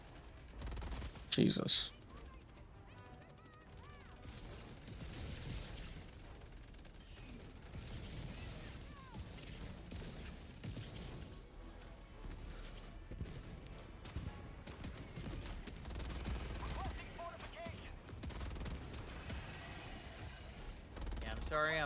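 Bursts of gunfire from a video game shooter hitting a SCAF turret, rapid and fairly faint, with one brief loud shot near the start and steady clatter underneath, mixed with a speaking voice.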